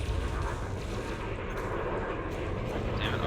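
Spaceship multi-cannon fire in Elite Dangerous, a dense, continuous rumbling stream of rapid shots with no clear gaps, steady and fairly loud throughout.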